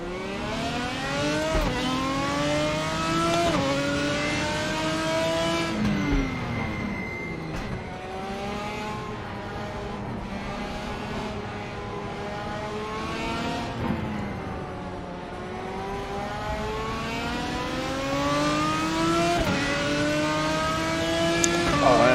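Race car engine in the RaceRoom racing game, revving hard through repeated rising and falling pitch sweeps as it accelerates and shifts gears, loud and close for over twenty seconds, with no talking over it.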